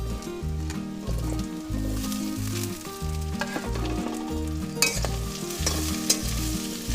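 Taro stolons (lati) fry in oil with onions in a pan for a Bengali curry with bata fish, a close, continuous sizzle overlaid by repeated scraping and clacking strokes as a spatula stirs them around.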